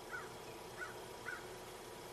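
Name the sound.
crow calling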